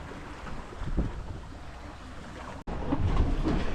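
Wind blows around a Twister sailboat under sail in about 8 to 10 knots, a steady rushing buffeting noise with gusty thumps on the microphone, briefly dropping out before returning stronger.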